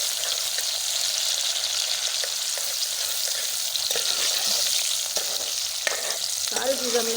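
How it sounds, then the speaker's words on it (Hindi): Onions frying in two spoonfuls of ghee for an aloo baingan dish, a steady close sizzle with occasional scrapes and clinks of a stirring spoon in the pan. "हम यहाँ 2 चम्मच मैंने घी के डाले हैं और अब इसके अंदर प्याज डालूँगी"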